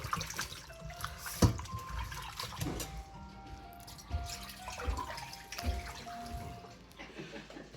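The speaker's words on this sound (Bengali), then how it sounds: "আড়াই কেজি খাসির মাংস, ওটাকে একটু ভালো করে ধুয়ে নেব" Tap water runs and splashes over two and a half kilograms of goat meat being washed in a home kitchen, with intermittent drips, clunks and handling noises close by.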